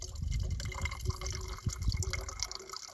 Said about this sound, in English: So then you just put it over whatever water bottle you want full,